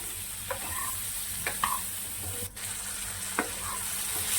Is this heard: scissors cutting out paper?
no